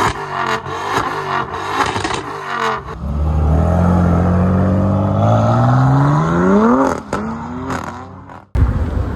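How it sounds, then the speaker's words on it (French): Ferrari 250 GTO pulling away with a loud, close engine rising steadily in revs, preceded by short bursts and clatter, then ending abruptly. "départ d'un 250 GTO"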